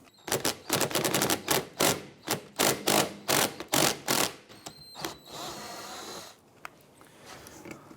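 An impact wrench loosening the 12mm nut on a 2008-2013 Nissan Rogue rear wiper arm, firing a rapid series of loud rattling bursts close by, then a brief whirring spin-off.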